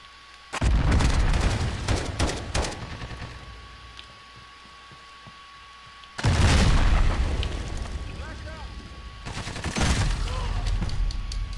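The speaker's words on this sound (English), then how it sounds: "This man really tried to hit me with an RPG, bro." An RPG and gunfire in Call of Duty Modern Warfare: two sudden heavy booms with rumbling tails amid bursts of shots, with a voice talking at times.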